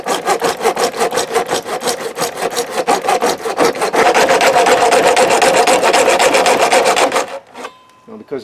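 A back saw cuts through Veranda vinyl railing in steady, fast rhythmic strokes, close and loud, the rasping growing denser midway before stopping abruptly near the end.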